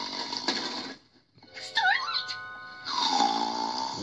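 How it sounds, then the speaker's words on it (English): Exaggerated cartoon snoring from a sleeping pony character, with drawn-out rasping breaths, a warbling whistle in between and another loud rasping snore afterward, close and clear with no other sound. "Who's snoring?"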